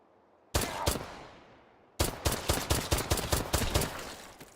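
Gunfire in the VR game H3VR: a single loud shot with a long decaying echo, then a rapid burst of about a dozen closely spaced shots, close and sharp.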